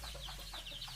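Six backyard chickens, two of them roosters, cluck in quick, soft, repeated calls at fairly close range, with no talking over them.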